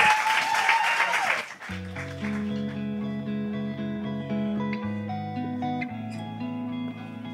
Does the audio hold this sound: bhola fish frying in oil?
no